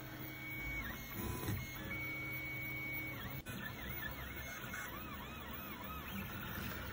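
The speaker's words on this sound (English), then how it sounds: "As you can see, the printing is smooth and easy." A 3D printer printing nylon filament hums quietly, its stepper motors whining in gliding, warbling tones that rise and fall as the print head moves, with a faint steady fan hiss underneath.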